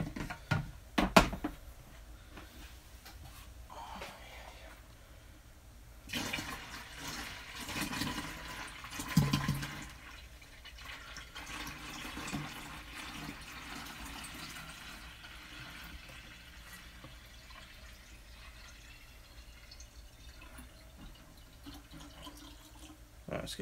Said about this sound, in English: We should fill up our pump sprayer.